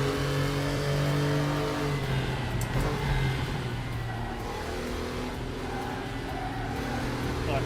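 Race car engine in the RaceRoom racing game revving hard under throttle, a loud, continuous mid-pitched drone with rising and falling pitch as power comes on, no talking.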